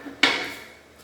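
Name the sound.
pins popped into tractor bucket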